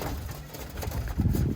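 Birmingham Roller pigeons in a loft in California, low soft cooing and murmuring close by, swelling louder toward the end.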